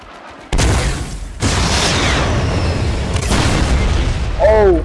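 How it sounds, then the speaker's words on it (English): Fortnite gameplay with loud gunfire and blasts rolling through continuously, dense and close, with a short whistling sweep near the end. "Someone else is shooting them at us."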